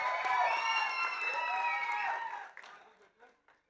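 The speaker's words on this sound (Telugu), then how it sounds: "కాజల్ అగర్వాల్కి ఒక్కసారి గట్టిగా చప్పట్లు" A crowd at the Satyabhama trailer launch event cheers and applauds Kajal Aggarwal with loud, shrill whoops and cheers for about two and a half seconds, then fades into a few scattered bursts.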